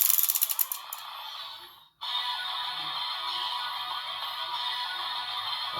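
A Kamen Rider Zeztz DX Breakam Dawn transformation toy plays its standby sound: a bright, looping electronic chime and jingle, with a brief mechanical rattle and clicks at the start, then a steady sustained tone continuing alone.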